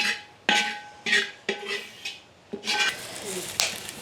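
A spoon stirs grated coconut with coriander, chili and turmeric powder in a pan, giving close scraping knocks and clinks in an uneven rhythm, with a faint hiss of heat beneath.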